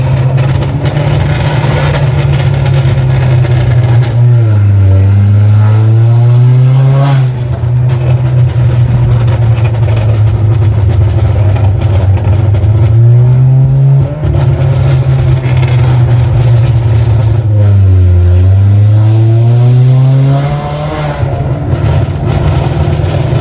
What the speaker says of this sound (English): here's how the exhaust sounds after the FunctionWerk Frontpipe